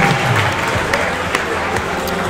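A basketball crowd at a senior-night high school game claps for an injured player, Emma, as she is helped up; dense, continuous applause with scattered cheers fills the short span.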